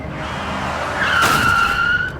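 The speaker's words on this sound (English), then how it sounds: "So he gets hit by this car." A movie car skids on screeching tires just before it hits a man. The squeal is loud and close, rising and holding for about two seconds over a rumbling engine.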